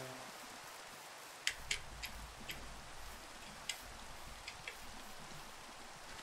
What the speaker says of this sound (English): Oh, there's where the rain's at. Rain's right over here.